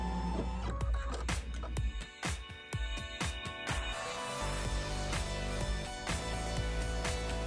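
An embroidery machine stitches a basting line for a pineapple crossbody bag, a continuous mechanical whir with a fast run of loud, sharp clicks early on, then settling into an even hum with occasional knocks.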